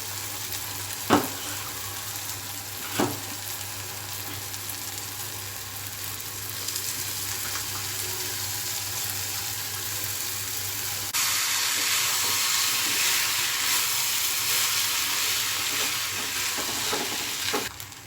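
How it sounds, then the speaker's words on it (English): Poha being stirred into vegetables in a hot pan, a steady sizzling hiss with a couple of soft clinks from the utensil early on. The frying grows a little louder and brighter partway through and continues close and unbroken. "So now I am going to add this poha now."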